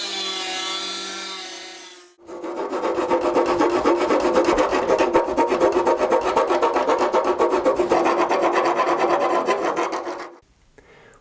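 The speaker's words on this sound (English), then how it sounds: "then use a file to finish the edges" A hand file rasps steadily along the trimmed edges of a carbon fibre car bonnet, dense repeated strokes loud and close for about eight seconds before stopping abruptly.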